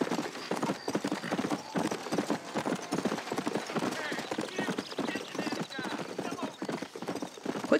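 Horse hooves clip-clop steadily in the Red Dead Redemption video game, a dense, continuous gallop rhythm that runs the whole time with occasional whinnies and voices over it.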